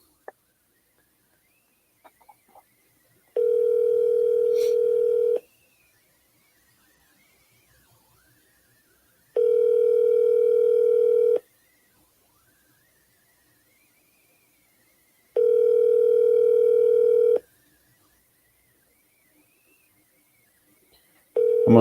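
Three long, steady telephone ringback tones sound during a call to a broker, each lasting about two seconds with roughly four-second silences between, clear and close on the line.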